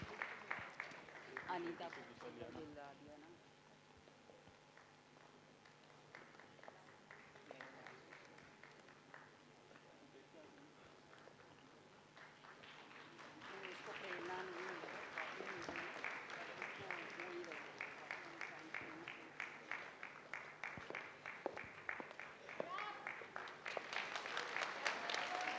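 Audience at an awards ceremony for grassroots community workers applauds, the clapping building over the second half into a dense, sustained ovation, with voices talking over it throughout.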